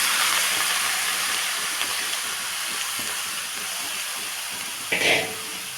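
Spinach dropped into hot oil with fried dried red chillies, giving a steady hiss of sizzling that tapers slightly, with a short louder puff near the end.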